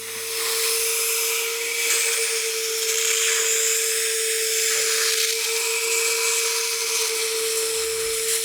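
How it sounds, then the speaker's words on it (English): A shop vacuum runs continuously with a steady whine and roar, cleaning a coffee table surface before sanding, its pitch shifting slightly as the nozzle moves across it. "I'm going to be cleaning it with a shop vacuum"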